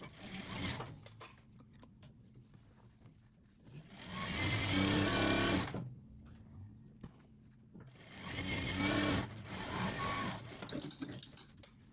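A sewing machine stitching patchwork quilt squares runs in two sustained bursts of rapid mechanical whirring, loud and close, with quieter handling noise in the pauses between them.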